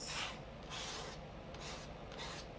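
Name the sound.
homemade mark-making tool scraping wet paint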